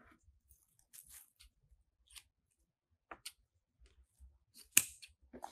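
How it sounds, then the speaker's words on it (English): Scissors give a few faint, sparse snips and clicks while trimming ribbon tails on a grapevine heart door hanger. The cuts are scattered through near silence, with one sharper snip near the end. "let's trim up our ribbon tails."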